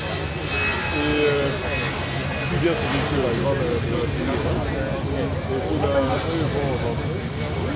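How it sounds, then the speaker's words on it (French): An airplane coming in to land at Brussels, a continuous loud engine roar filling the background while people talk nearby over it. "L'avion va atterrir."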